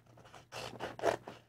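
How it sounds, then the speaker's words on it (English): Scissors cut through glued paper for a bookmark, a series of about five rough, scraping snips in quick irregular succession, close and fairly quiet, with no talking. "And then with my scissors, I'm going to go from whatever ankle"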